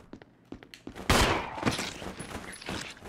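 Gunfire in Resident Evil HD Remaster, a few sharp scattered shots and then a loud burst followed by ragged echoing reports that fade unevenly over a few seconds.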